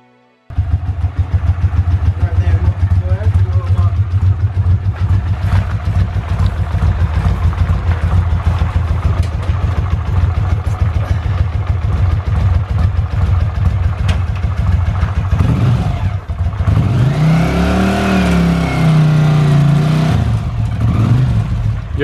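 A trike engine starts and settles into a steady, loud idle up close, then revs up in a couple of rising bursts before dropping back to idle.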